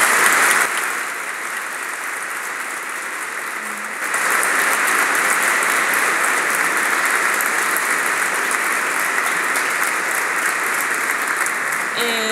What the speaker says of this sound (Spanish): Quisiera pedir un aplauso para ellos